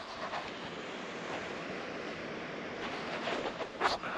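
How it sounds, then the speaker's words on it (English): A steady, broad wash of distant water, heard from high up near a remote Rocky Mountain cabin, fills the air evenly, with a faint gust near the end and no voices. "You could hear the water still from up here."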